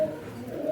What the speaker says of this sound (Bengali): তারপর দেখাতেছে আপনাদেরকে এক জোড়া নান কবুতর